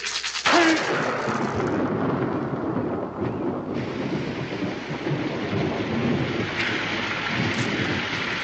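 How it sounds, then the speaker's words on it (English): Steady, heavy rain pours down in a dense hiss, with a few sharper cracks and rumbles rising over it, and no voices. "Look, Josh, it's raining."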